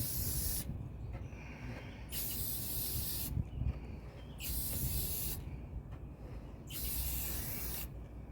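A spray paint can sprays in several long hissing bursts of about a second each, separated by short pauses, over a steady low wind rumble outdoors while painting a motorcycle helmet.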